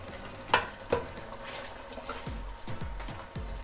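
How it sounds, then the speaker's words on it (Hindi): Chicken is sautéed with spices and pepper in oil for a white chicken korma, with soft scraping stirs in the pan, a couple of sharp spoon knocks early on and a low background sizzle. "अब मैं इसको उस वक्त तक भूनूंगी जब तक मसाला तेल ना छोड़ दे।"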